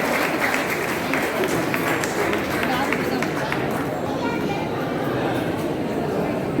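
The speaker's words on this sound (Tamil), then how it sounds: "கரகோஷம் கைத்தட்டல் அப்பப்போ ஞாபகம் வச்சுக்கோங்க" Applause and clapping from an audience at a Brahmin welfare association general meeting in Krishnagiri, a dense continuous patter that stays steady, with crowd murmur and a voice mixed underneath.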